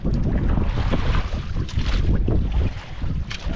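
Strong wind buffets the microphone, a loud continuous low rumble with gusts, over the wash of water around a boat.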